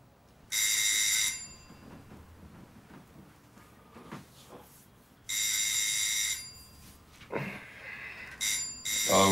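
A doorbell rings in two long, bright electric bursts separated by a few seconds, with faint household sounds and brief voices between them.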